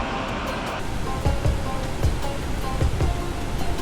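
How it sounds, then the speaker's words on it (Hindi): Small mountain waterfall flowing along the trail at Yamunotri, a steady broadband rush of falling water, fairly close and continuous, with faint thuds and footsteps mixed in and no talking. "ये छोटा झरना बहता हुआ।"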